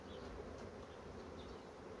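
Steady, dense buzzing of a thriving honeybee colony at a hive, a continuous drone that holds even for two seconds with no voices.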